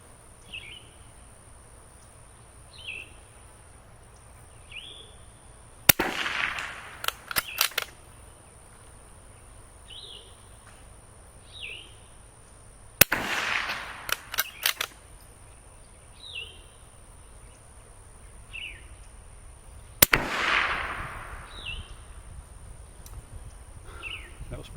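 Three sharp rifle shots from an 84-year-old Remington 341 .22LR ring out outdoors at roughly seven-second intervals. Each crack is followed by a brief echo, and faint birdsong and insects fill the gaps between shots.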